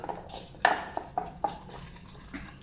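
A spoon stirs sugar into som tam dressing in a bowl, producing a few distinct clinking knocks against the bowl wall with soft scraping in between, close and fairly quiet, with no talking.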